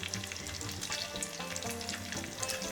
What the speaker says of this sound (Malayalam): 2 വറ്റൽമുളക് ഇട്ട് കൊടുത്തു.